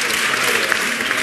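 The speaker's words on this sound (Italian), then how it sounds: "Applauso." Studio audience applauding on an Italian dating talk show, a dense continuous wash of clapping, fairly loud and close, with no talk over it.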